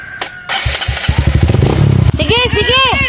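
Motorcycle engine revving and running close by, a loud throbbing putter rising and falling, with a voice speaking over it.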